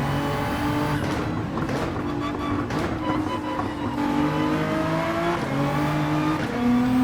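A GTR race car in the Gran Turismo 7 video game, its engine holding a steady loud drone with rising and falling revs through gear changes and some tire noise.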